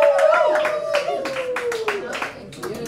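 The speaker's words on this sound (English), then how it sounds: "Please, everybody, give a very warm round of applause to Kade Wonders." A comedy club crowd at Downstair Comedy at Ipanema in Richmond, Virginia claps for a comedian, with sharp, close handclaps in an uneven rhythm and a sustained whooping voice running through the cheering.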